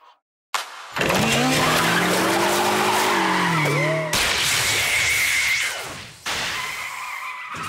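Car tire skid sound effect, loud sustained squealing screeches with shifting pitch, broken into several long bursts separated by abrupt cuts.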